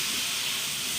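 Mushrooms cooking in a pan, part of a beef stroganoff, give off a dense, even hiss like steam for a moment, loud and close with no voices.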